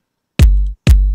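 Two punchy electronic kick drum hits, each with a deep booming tail that rings out before the next strike.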